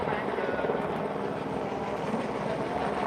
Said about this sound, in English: this chopper's getting on my nerves